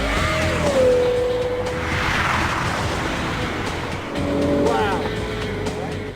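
A very fast car runs at a little over 160 km/h, its engine note steady and loud for several seconds, then swelling again near the end, with constant road and wind noise throughout.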